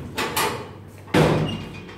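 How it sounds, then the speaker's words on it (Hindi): Back door of a house being opened, with a couple of short knocks or rattles followed by a louder thud and scrape, close by with no talk. "बस घर के पीछे का दरवाजा आप खोलिए"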